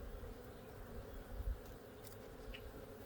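Steady, soft buzzing from honey bees around a backyard apiary hive carries on without a break, low and faint with no talking.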